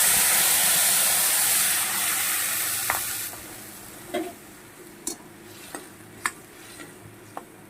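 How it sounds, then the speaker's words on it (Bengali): Whole spices for tempering fry in a pan with crushed curry leaves. A loud, hissing sizzle settles into a quieter crackle, broken by sharp taps and scrapes of a stirring spoon. "ফোড়নটাকে সুন্দর করে ভেজে নেব ফোড়নটা আমার ভাজি হয়ে গেছে বন্ধুরা এই পর্যায়ে আমি পিষে রাখা কারি পাতাটা দিয়ে দেবো"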